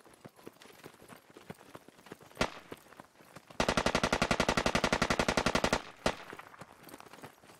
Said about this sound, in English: They're just shooting long range, I think.